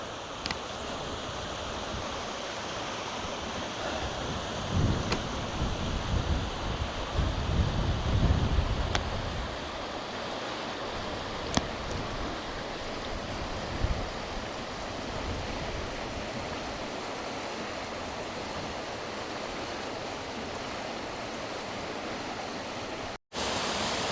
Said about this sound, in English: these cascades are just gorgeous